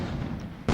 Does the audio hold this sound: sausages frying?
no